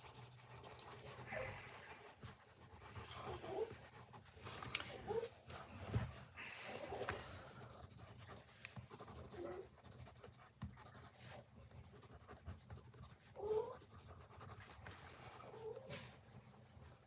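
Quiet scratchy rubbing of a Posca paint marker drawing across paper in close-up, soft intermittent strokes over a faint background hum.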